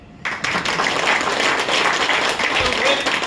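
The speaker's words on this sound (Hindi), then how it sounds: "तो वो नहीं करने के लिए अभी ताली बजाता हूं। अभी तो बजाओ भाई।" Sustained applause from a seminar audience clapping hands, a dense steady wash of claps starting abruptly and continuing throughout.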